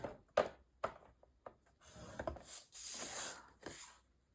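A scoring tool scrapes and rubs across paper for a mini album page in short, faint strokes, a few sharp taps and then a longer hissing drag, close up and quiet with no talk.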